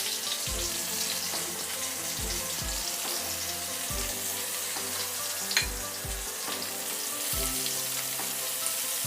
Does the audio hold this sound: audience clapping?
no